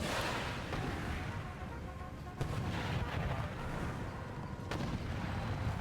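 Mortar artillery booming in Empire: Total War during a fort battle, steady rumbling gunfire with two sharp, loud cracks standing out over a constant battlefield roar.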